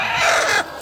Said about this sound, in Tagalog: Ito po sir, ibang ano din po, strain ng manok po. Plymouth Rock din po ito.